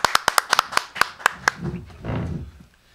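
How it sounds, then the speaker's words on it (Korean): Scattered, uneven hand claps from a small audience welcoming a guest priest speaker at a live church talk show, a dozen sharp claps in quick succession before fading into murmuring voices and a brief talking sound. "제대로 한번 박수로 한번 모시겠습니다"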